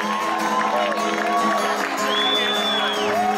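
Concert audience applauding and cheering as band members are introduced, a steady crowd roar with whoops throughout, loud and continuous, with a high whistle-like tone partway through.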